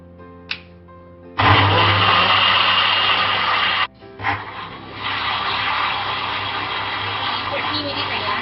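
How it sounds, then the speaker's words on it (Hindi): A kitchen blender grinds raw green mango chutney with pomegranate seeds, its loud motor whirring close by in two bursts separated by a brief pause. "मैंने इसको ब्लेंडर में डाल लिया है। अब मैं इसको पीस दूंगी।"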